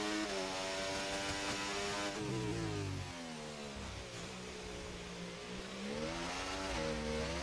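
An F1 car in the F1 24 racing game slides through a wet Imola circuit, its engine revving loudly and steadily with pitch swings as it drifts, continuous and close, without speech.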